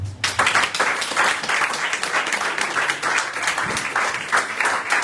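A church congregation applauding, dense rapid clapping from many hands sustained across the whole stretch, fairly loud and close, with faint voices mixed in.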